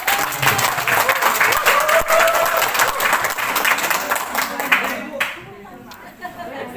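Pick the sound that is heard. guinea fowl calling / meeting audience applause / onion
meeting audience applause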